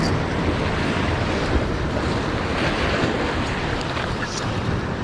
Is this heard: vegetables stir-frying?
no